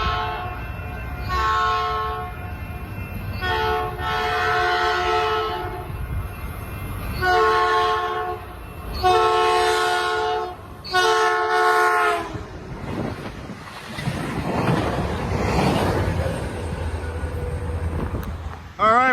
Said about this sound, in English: Nice rail joint next to me. Oh, I love that. Clickety-clack.